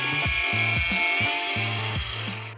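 A blade cuts through braided-stainless PTFE fuel line in a quick series of rhythmic rasping strokes, close and fairly quiet, with no talk.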